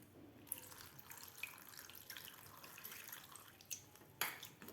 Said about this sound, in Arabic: وكديري الماء.